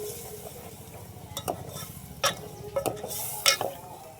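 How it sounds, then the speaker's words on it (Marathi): Spice masala for a village-style spicy egg curry sizzling in a pan while being stirred, a soft steady fry hiss broken by a few sharper scrapes and clinks of the spoon against the pot. "सर्व मसाले परतून घेऊ."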